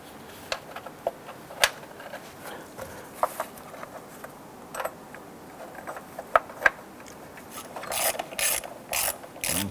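Ratcheting and clicking of a wrench tightening the bolt on a battery hold-down clamp in a Nissan Versa, in short irregular bursts of metallic clicks at close range, with no talking.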